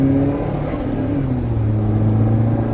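A Haval H9 engine revs hard under full acceleration, a loud, steady droning whose pitch climbs and then settles into a rising tone, heard close from inside the car.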